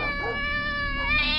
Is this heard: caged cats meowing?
yes